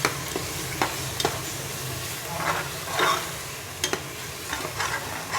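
Yogurt sautés with mutton biryani masala in a pan, a soft continuous sizzle punctuated by sharp stirring clicks and scrapes, with a few brief swells of hissing, no voices.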